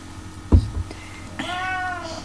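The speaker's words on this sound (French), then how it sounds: "C'est le chat, hein." A pet cat gives one clear, rising-and-falling meow near the end, preceded by a soft thump and light household noise in a quiet room.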